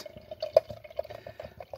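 Chocolate milk stout beer pours into a glass close by, a faint trickling gurgle with small splashing drips in a quiet room, no talk.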